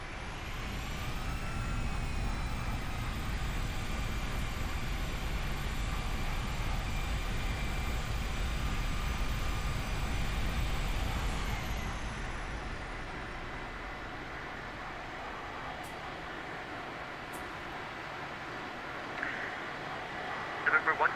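An Airbus A321 taxiing to the gate in the X-Plane 12 flight simulator after landing at KDCA, with a steady engine and cabin drone that stays constant and then drops slightly, while a voice talks over it.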